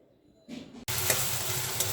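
Onion, green chili and garlic dropped into hot oil for a greens stir-fry, bursting into a loud, steady sizzle after a brief quieter stir.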